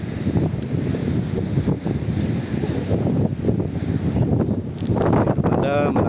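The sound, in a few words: wind blowing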